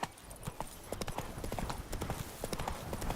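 Roach the horse from The Witcher 3 galloping, a steady run of hoof clip-clops with a brief whinny-like cue, continuous against game ambience and no talk.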